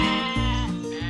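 Sheep bleating in a loud, close, wavering call that breaks into several short pulses, heard alone with no talk.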